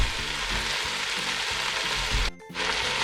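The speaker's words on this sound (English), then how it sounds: "Now I'm adding curry leaf and sliced green chili, and then coconut oil." Curry leaves and sliced green chili sizzle loudly in hot coconut oil, a constant crackling fry with a rhythmic stirring pulse and a brief drop in sound near the end.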